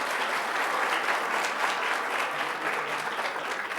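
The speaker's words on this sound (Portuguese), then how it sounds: "Uma salva de palmas aos agraciados, senhoras e senhores." An audience at a ceremony honouring public security agents applauds the honourees, a dense, steady round of clapping that fills the whole stretch at an even level without fading.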